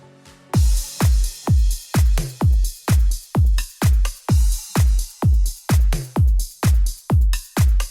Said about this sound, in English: Let me play you guys this drum track.